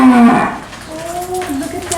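A farm cow gives a drawn-out moo, close and loud, the long tonal call wavering in pitch over about two seconds.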